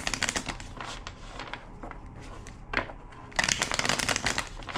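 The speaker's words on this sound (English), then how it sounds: "2 more shuffles." A deck of tarot-style cards being shuffled by hand, crisp rapid riffling bursts separated by brief pauses, close and clear with no talking.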